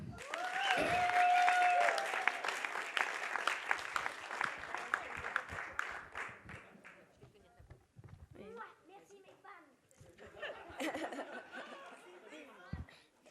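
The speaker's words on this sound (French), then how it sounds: "Une bonne main d'applaudissements." Clapping from an audience at a youth panel cabaret event in Rimouski, loud at first and tapering off over several seconds, with chatter and voices continuing as it fades.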